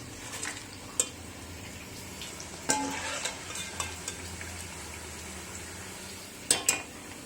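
Bitter gourd stir-frying in a pan, a steady soft sizzle with scattered scraping and stirring clatters of a utensil against the metal, a few sharper knocks near the end, no voices.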